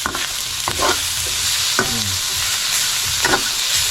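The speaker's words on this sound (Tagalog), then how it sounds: "Haluin ko muna siya." Food cooking in a pan is stirred with a utensil, giving several distinct scraping strokes over a continuous close sizzle, with no talking.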